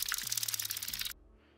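Eerie ambient bed from a first-person horror game, heard near a giant temple structure: dense hissing texture over low sustained tones that slide and shift, cutting off abruptly partway through and leaving a faint residual hum.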